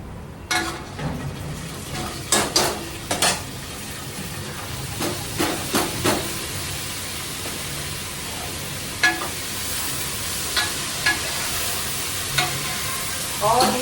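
Vadi lightly frying in a pan on the stove, a steady soft sizzle with scattered sharp clinks and scrapes of stirring throughout, close and moderately loud with no talking.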